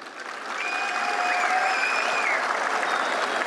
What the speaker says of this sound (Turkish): O halde en büyük alkış Denizlilere.